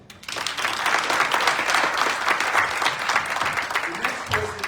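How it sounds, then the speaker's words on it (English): Steady audience applause at a medical colloquium on gun violence prevention, a dense wash of clapping from a sizeable crowd that swells quickly and holds loud throughout before tapering slightly at the end. "So please clap it up for Robin Kelly."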